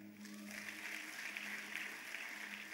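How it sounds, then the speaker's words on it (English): A church conference congregation gives a choir a round of applause, faint but steady clapping that carries on for a few seconds at a distance. "Please give a round of applause to the choir."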